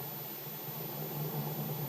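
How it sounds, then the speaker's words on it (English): A new car's motor runs smoothly at idle, a steady, even hum with a soft purr that holds without change for a couple of seconds and has no voices over it. "Now, as they get into the new car, Bill starts the motor."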